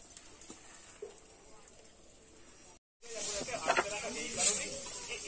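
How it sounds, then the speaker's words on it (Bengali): Bottle gourd leaf fritters fry in hot oil with a steady, close hiss that runs throughout, and someone talks over the second half. "এইভাবে সব চপ ভেজে নেব।"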